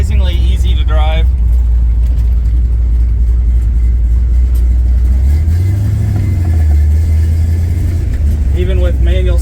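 A Plymouth Barracuda with a swapped-in 383 big-block V8 starts and runs loud and close, a deep rumbling idle that rises in one throttle blip midway, with someone speaking briefly at the start and end.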